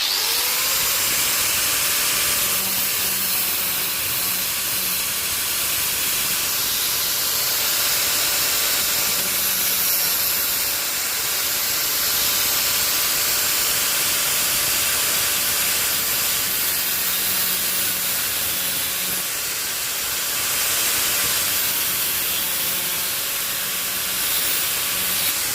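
An angle grinder cuts through metal in a workshop, a continuous loud broadband hiss and whine held steady for the whole stretch with slight swells in pitch, no talk over it.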